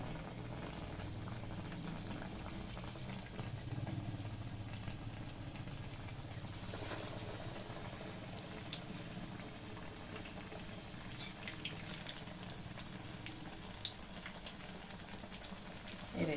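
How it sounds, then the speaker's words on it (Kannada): Bottle gourd pakoda dipped in gram flour batter sizzles and bubbles steadily in hot oil, a continuous close frying hiss with small pops and a brief louder surge midway. "ಇದನ್ನು ಎಣ್ಣೆಗೆ ಈ ರೀತಿ ಕರಿಯೋದಕ್ಕೆ ಹಾಕಬೇಕು"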